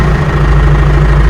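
An old tractor engine idling in a hayfield before tedding, a loud, steady low rumble with constant vibration and no variation, close by.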